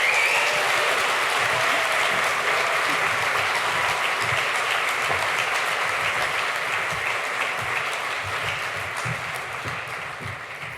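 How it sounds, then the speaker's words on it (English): Applause for the panelists at a community block party, a broad, even patter of many hands clapping that stays strong for most of its length before gradually tapering off. "Can we get a round of applause for our panelists?"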